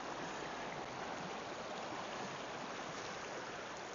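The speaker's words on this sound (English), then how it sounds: "All right, so here we are at the brook." A brook flowing toward Lake Willoughby in Westmore, Vermont makes a steady, continuous rush of water with broad noise and no pauses, heard alone.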